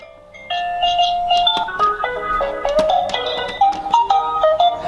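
A home toy claw machine plays a bright electronic melody of chiming beeping notes, loud and close, with steady rhythm and no talking.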